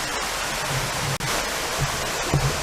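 Steady broadband rush of a forest waterfall, continuous and fairly loud, filling the scene on its own with no voices over it.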